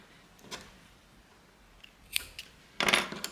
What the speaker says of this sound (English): And then you're going to cut off the yarn,